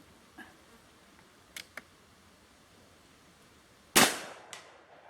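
Gunshot from a cowboy action cartridge loaded with Trail Boss powder, one sharp, fairly loud report with a short decaying tail, preceded by a few faint clicks of handling.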